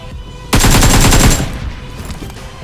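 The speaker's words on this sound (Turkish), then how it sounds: "Edanlar mı abi niye Edanlar'ı vurdun?" Gunfire in the video game PUBG Mobile: a single loud automatic burst of rapid shots lasting about a second, then a quieter stretch with faint in-game sounds.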